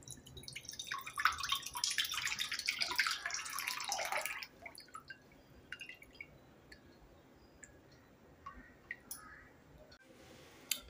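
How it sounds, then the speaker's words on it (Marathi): Tender coconut water pours from the nut into a bowl as a steady trickling splash for about four seconds, then gives way to scattered faint drips and small clicks in a quiet room. "पाणी बाउलमध्ये काढून घेऊया।"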